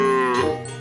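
A large cow in the Sakura School Simulator game lets out a single loud, drawn-out moo that slides downward in pitch, heard close with nothing else over it.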